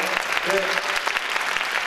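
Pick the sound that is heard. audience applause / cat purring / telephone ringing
audience applause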